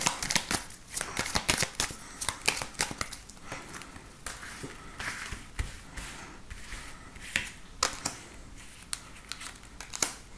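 Tarot cards being shuffled before a daily card reading, giving dense, rapid papery riffles and crinkly flicks in irregular bursts, close and fairly soft, with no talking.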